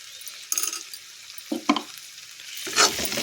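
Food being stirred and mixed in a pan in a home kitchen, with a few short scraping and sizzling strokes close up, separated by brief pauses.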